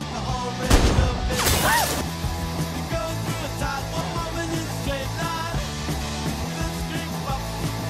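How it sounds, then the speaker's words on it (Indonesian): A sharp gunshot and crash of a drinking glass shattering in an action film, with a burst near the start followed by a busy, sustained soundtrack bed of music and effects. "Dan Levi pun balik menembak gelas milik Drasa."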